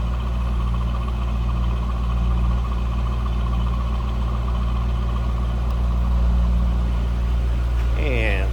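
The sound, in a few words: 5.7 liter V8 engine idling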